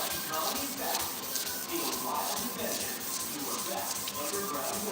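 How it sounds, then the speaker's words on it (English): Steady, continuous scratchy rubbing of sandpaper worked back and forth by hand across the body of a 1968 C10 truck cab, close and fairly loud, with no talking. "What are you doing sanding that by hand like that?"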